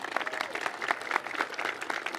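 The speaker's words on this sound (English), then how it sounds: "if we can give them a round of applause." A crowd at a light-rail groundbreaking ceremony outdoors gives a round of applause, a steady, moderately loud patter of many hands with occasional sharper claps standing out.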